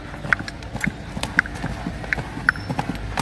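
Horse hooves clip-clop in a steady, distinct rhythm of about five sharp strikes, fairly close, with a low murmur of background noise.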